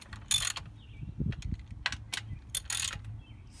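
Bolts on the rocker cover of a 2005-2010 Honda Odyssey engine are snugged down by hand with a ratchet, making a run of small clicks and light metallic taps, close and fairly quiet, with no talking.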